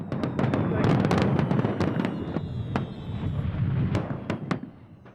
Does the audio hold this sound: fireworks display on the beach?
yes